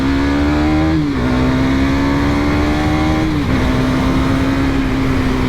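A KTM Duke 250 ABS motorcycle engine drones steadily and loudly while riding, the pitch dropping briefly at two gear shifts before holding again.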